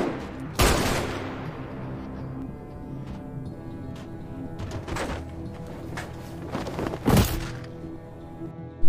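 Gunfire in a Korean revenge drama scene, a sharp loud shot near the start and another blast about seven seconds in, separated by a tense low rumble of score and background sound.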